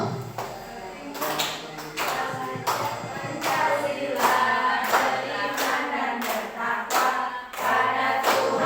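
A group of adults claps together in a steady, even beat while singing a song, with the claps sharp and close over the voices.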